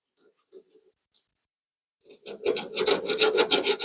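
A few light scratches, then steady rhythmic rasping strokes of coarse sanding on body filler over a dent in a car's rear quarter panel, close and fairly loud.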